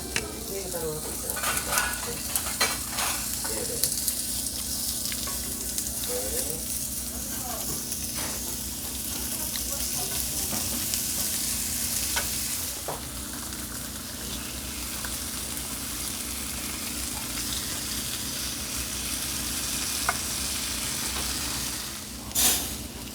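Thin-shaved pork belly sizzles steadily on a hot grill in a Korean restaurant, a constant crackling hiss with occasional sharper pops, close by, with faint chatter in the background.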